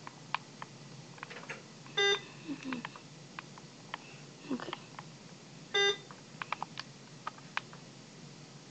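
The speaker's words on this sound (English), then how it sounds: "I apologize for the beeping, you guys." Two sharp electronic beeps ring out several seconds apart, each a short, bright, harmonic tone, over faint clicks and Minecraft game noises, with a brief spoken word.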